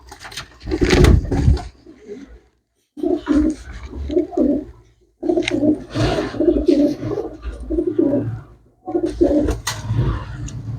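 Pure-bred pigeons coo close by in repeated throaty, rolling bursts, separated by short pauses.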